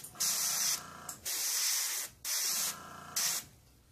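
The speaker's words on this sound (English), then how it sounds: "I'll hit it on the stencil, letting the overspray come down on the model" An airbrush sprays paint across a flame stencil so the overspray drifts onto a scale model, heard as four close, steady hissing bursts separated by short pauses.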